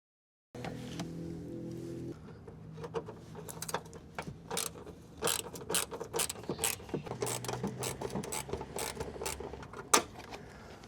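Bumper screws being removed from a Citroen Xsara Picasso 2.0 HDI: a busy run of sharp, close mechanical clicks and ratcheting ticks from a hand tool, irregular and dense, over a low steady hum at the start.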